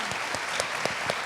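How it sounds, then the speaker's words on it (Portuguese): Festival audience at a children's literature panel gives a brief round of applause, a steady mid-level wash of clapping with a few sharper individual claps standing out. "Mais uma salva de palmas para eles agora,"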